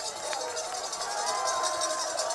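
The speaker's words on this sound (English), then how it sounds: "He's going to get a fantastic cheer as he comes through here behind us in a moment" At an orienteering sprint arena, spectators cheer as a runner passes, forming a continuous, fairly loud wash of crowd noise with clapping and shouts that holds steady throughout.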